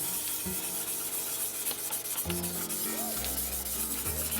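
A polishing pad rubs back and forth over the body of a 1949 Mercury AMT model car kit, giving soft, repeated rasping strokes with small pauses between passes.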